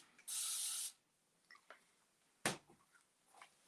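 A single sharp hissing spray of water from a spray bottle, followed by quiet handling clicks and a brief tap.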